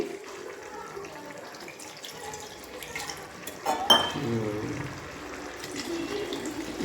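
Water splashes and trickles into a pan of potato masala for puri, with faint clinks of metal, a steady wet pouring sound that swells briefly midway.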